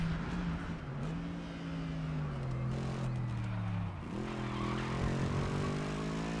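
A car engine revving up and down in a street racing setting, its pitch rising and falling in a few sweeping surges over a steady rumble, fairly close.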